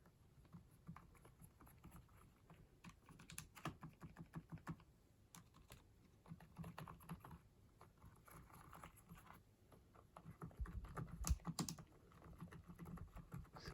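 Fingers type steadily on a quiet budget keyboard-and-mouse combo, producing soft, low patters of keystrokes with brief pauses and a slightly busier burst toward the end, all faint and without talk.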